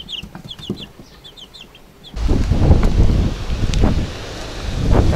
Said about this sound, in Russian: Какой сегодня ветер сумасшедший, друзья.